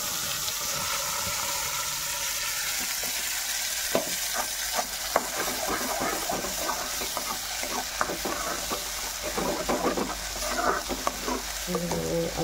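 A tadka of salt and chilli sizzles and spatters in a hot pan, a steady frying hiss broken by clatters of stirring throughout.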